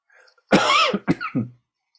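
A single harsh cough from a man with a cold, followed by a couple of quick, rougher throat-clearing coughs, close and fairly loud against silence.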